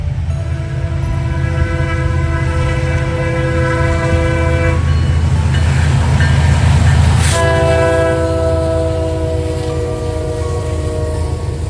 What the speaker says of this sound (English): the horn on the leader sounded like it was about to die